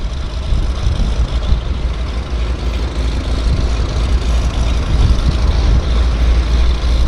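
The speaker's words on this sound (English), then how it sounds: "Warming up that radial engine" An aircraft radial engine warms up at Vancouver's downtown harbour airport, giving a loud, steady, deep rumble that holds throughout with no voices.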